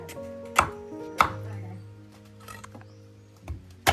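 Jackfruit being chopped into pieces for crisp chips in a home kitchen: a few sharp, loud knife chops onto a board at irregular intervals, with softer handling noises between them.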